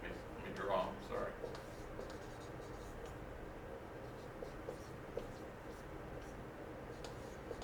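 Brief scratchy strokes of a marker or chalk on a board during a chemistry class, clustered near the start and then faint, over a low room rumble with a voice talking.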